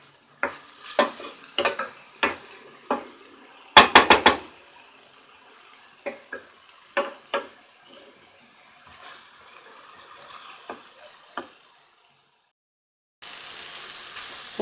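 Garlic and onion sautéed in a pan, with a spoon scraping and clinking against the pan in uneven taps and a quick rattle, then a soft steady sizzle near the end, close and without talk.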